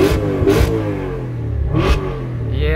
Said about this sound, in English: This is a pure engine sound.